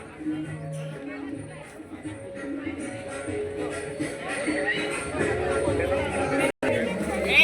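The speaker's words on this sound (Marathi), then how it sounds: "मंदिरात आज भाविक भक्तांची मोठी गर्दी आपणाला पाहावयास मिळते" Crowd of devotees gathered at the Shri Ganesh temple in Kolewadi, Karad, on Sankashti, a steady murmur of many voices and general hubbub filling the space throughout, with one brief dropout near the end.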